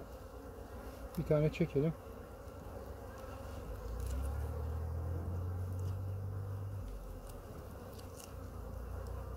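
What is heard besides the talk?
honeybees on beehive frame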